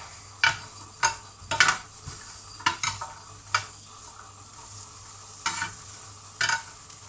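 Chili paste with salted fish being dry-roasted in a pan, a series of sharp, spaced scraping and clinking strokes of a utensil against the pan over a faint background hum, with no talk.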